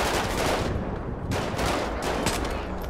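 Gunfire in the video game GTA V during a zombie survival mode, rapid overlapping bursts of shots in a dense, loud barrage that keeps going throughout the clip with no talking.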